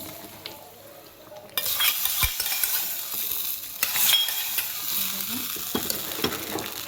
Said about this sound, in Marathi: आता आपली फोडणी तयार आहे ती ह्याच्यावर घालून घ्यायची